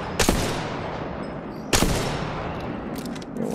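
Two sharp bursts of gunfire in the Apex Legends video game, each a loud crack with a trailing echo about a second and a half apart, followed by fainter distant shots.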